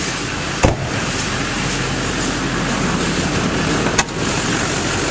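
A 2006 Chevrolet Silverado 2500 with the 6.6L LBZ diesel runs under an open hood, giving a loud, steady, dense roar broken by two brief sharp clicks.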